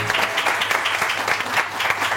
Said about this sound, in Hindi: जरा तालियां बजाइए जोर से।